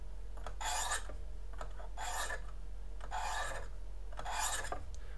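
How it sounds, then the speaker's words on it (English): A knife is drawn across a ceramic honing stone in four slow, evenly spaced rasping strokes, close and crisp over a low steady hum, with no talk. "run that ceramic honing stone right over it"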